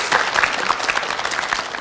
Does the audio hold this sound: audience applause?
yes